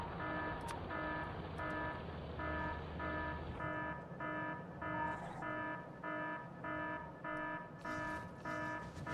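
Video game alarm sounding in repeated evenly spaced electronic beeps, a steady pulsing pattern with a sustained tone underneath at first, faint background effects in between.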